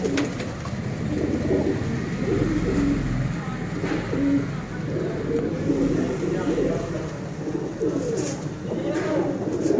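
A flock of about 82 flying and paired pigeons coos in a continuous, overlapping low murmur that runs throughout, with occasional sharper calls and faint background traffic noise.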